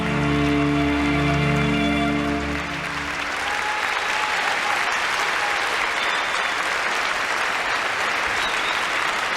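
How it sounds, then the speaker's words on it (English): Sustained applause from an arena crowd at the 1997 World Figure Skating Championships ladies' short program, loud and steady throughout, with music or a tonal sound fading out over the first few seconds. "Nice hand from the crowd."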